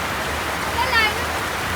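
Steady rain pours down outdoors while a football game goes on, a soft continuous hiss of falling water with a brief faint splash near the middle.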